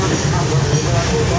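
A train runs through the night in a steady, loud low rumble with continuous rolling noise and no breaks, heard from aboard on a long rail journey from Guwahati to Bangalore.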